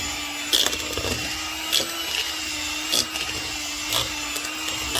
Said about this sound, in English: What I'm going to do now is I'm going to use my hand mixer to blend it up.